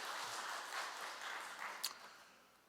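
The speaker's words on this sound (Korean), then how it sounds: "여러분 뜨거운 박수 한번 보내주시기 바랍니다." A Catholic congregation at Mass applauds in church, a soft, diffuse rustle of many hands that sounds distant and faint. It fades away toward the end, with one brief sharper click partway through.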